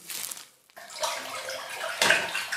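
Warm water sloshes and swirls as a solution, 3 ml per 4 liters, is stirred in a container for soaking orchids, a close, continuous splashing with a brief pause and a louder surge near the end.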